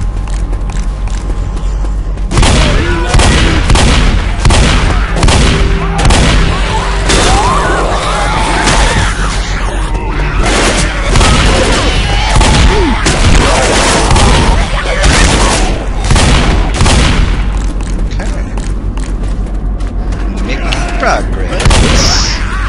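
Gunfire and explosions in the Left 4 Dead video game at an airport, a loud continuous barrage of rapid shots and booms, with players talking over it.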